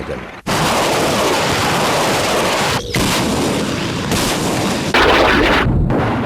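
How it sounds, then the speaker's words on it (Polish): Polish army artillery fire from 122 mm Gvozdika self-propelled howitzers and BM-21 rocket launchers makes a loud, dense, continuous roar of blasts and rushing noise, broken by a few brief gaps. "samobieżne haubice kalibru 122 mm goździk i artyleria rakietowa BM-21."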